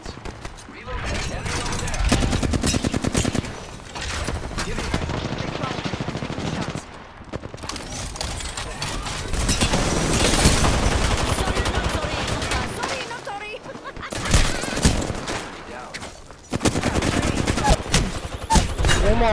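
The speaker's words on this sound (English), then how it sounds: "Opening fire on the enemy. I am taking fire, friends." Rapid automatic gunfire rattles through a video game battle in long loud bursts with brief lulls, while a voice talks over the shooting.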